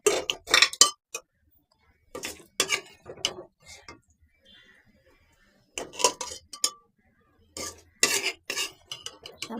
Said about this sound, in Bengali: এখন আমি প্রেশার কুকারে দিয়ে দিব সিদ্ধ হবার জন্য